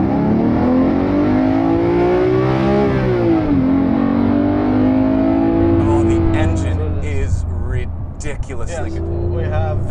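Manual Porsche GT3 with a naturally aspirated flat-six engine revs hard while driving, a loud, rising and falling engine note that climbs, dips and pulls again, with people talking excitedly over it near the end.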